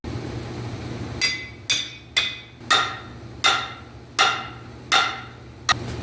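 A steel axe head is hammered down onto a new wooden handle: eight sharp, ringing strikes spaced roughly half a second apart. Each blow is loud and close, and a low steady hum sits underneath.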